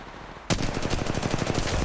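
Automatic gunfire in the mobile game Apex Legends Mobile: after a moment of low ambience, a loud, rapid string of evenly spaced shots bursts in and keeps going without pause.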